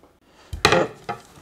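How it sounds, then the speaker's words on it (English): Chopped onions dropped on top of chili ingredients in a crockpot, a close soft thud followed by a brief rustling clatter and a smaller second tumble, with no talking. "Then you want to put your onions on top."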